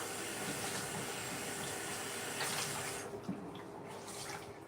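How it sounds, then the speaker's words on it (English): Water runs steadily from a bathroom faucet as grout is cleaned off a mosaic glass tile backsplash, a continuous soft hiss with faint splashes that quietens near the end. "I can work right out of this faucet"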